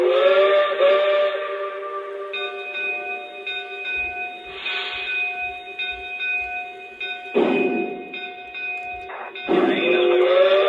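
Steam whistle on an O scale model train layout, a sustained multi-tone chord of steady pitch that sounds for several seconds, with hissing steam bursts and faint low clicks of the running layout, loud and close, no talk.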